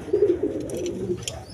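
Pigeons in a cage give a short run of close, low cooing notes, rolling and throaty, followed by a faint rustle.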